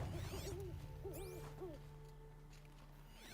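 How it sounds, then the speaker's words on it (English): An owl hoots in the video game Horizon Zero Dawn: The Frozen Wilds, a few clear, wavering calls over a quiet ambient game background, with no talking. "Owl. Where are you?"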